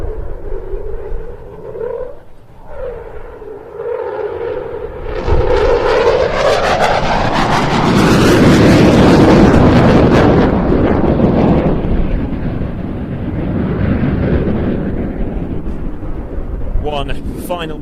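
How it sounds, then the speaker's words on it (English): A jet aircraft performs a fast display pass and repositions at a UK air festival, its engine roar swelling to a loud, broad rush that peaks mid-pass and fades slightly, with a commentator talking over it. "One final manoeuvre as the aircraft repositions to approach on the B axis."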